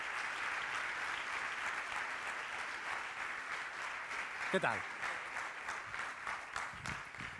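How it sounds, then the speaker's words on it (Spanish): Steady applause from an audience at a youth creators' awards ceremony fills the space for the whole stretch, with a short spoken greeting cutting in near the middle. "Un aplauso para ella"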